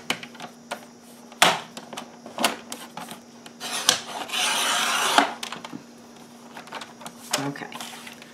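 Paper being cut for a large junk-journal-style lap book, heard as several sharp snips and one longer rasping slice, close and fairly quiet, with no talking.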